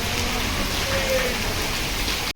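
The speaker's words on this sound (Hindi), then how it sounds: "यहाँ मालूम पड़ रहा है पानी कितनी तेज़ है ड्रम में है।" Heavy rain pours steadily into a drum outdoors, a dense, loud hiss with drumming spatter that continues without a break until it cuts off abruptly at the end.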